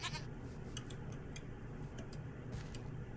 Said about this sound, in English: Some more goats.